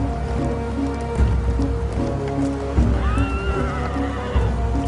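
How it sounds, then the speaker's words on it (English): A horse neighs with a rising, wavering whinny midway through, over a steady rain-like background hiss and low rumble. "Horses gave Europeans another massive advantage."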